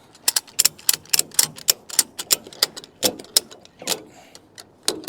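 Ratchet strap being cranked tight to tie down an ASV compact track loader, a rapid series of loud metallic clicks in an uneven rhythm, close and alone.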